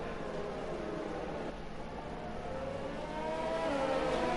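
Race cars on a sim racing formation lap at the Hungary circuit, a faint, steady engine drone with slow revving swells rising toward the end, no talk.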